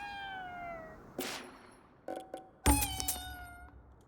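A cat in the video game Ghostwire Tokyo meows several times in a row: a long opening call, a short sharp chirp, then louder overlapping meows near the end, all over a soft game background hum.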